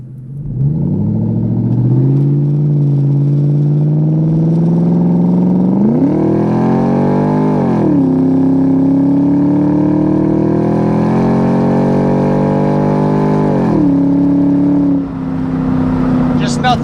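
A 2003 Ford Mustang Mach 1 with a 4.6 V8, automatic transmission, cold air intake and full aftermarket exhaust accelerates hard from inside the car, the engine note climbing loudly through several rising shifts before settling.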